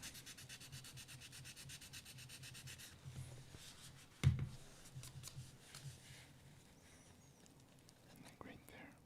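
Quiet, close rasping strokes of sanding on a small 1/24 scale model car body part, steady rubbing with a brief louder scrape partway through and soft voices in the background.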